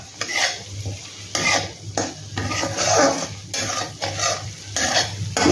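A spatula stirs and scrapes paste for a cauliflower curry in a hot pan, making a close sizzle broken by repeated rhythmic scraping strokes about once a second. The paste is being cooked down. No one speaks.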